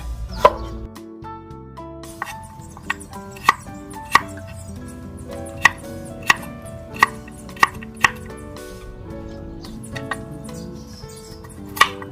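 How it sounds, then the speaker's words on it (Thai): A knife chops potatoes into cubes on a cutting board, sharp irregular knocks spaced about a second apart, close and clear over a faint background. "ราจะหั่นมันฝรั่งในลักษณะของสี่เหลี่ยมเตานะคะ"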